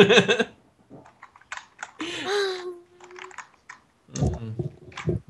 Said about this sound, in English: That's what he's typing into now.